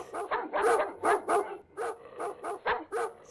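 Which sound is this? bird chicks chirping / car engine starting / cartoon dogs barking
cartoon dogs barking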